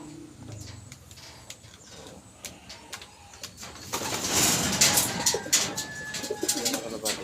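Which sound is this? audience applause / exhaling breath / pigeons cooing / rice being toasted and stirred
pigeons cooing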